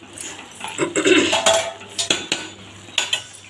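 Semiya upma being stirred in a pan, the utensil scraping and clinking against the metal in a few uneven strokes, close and fairly loud with no talking.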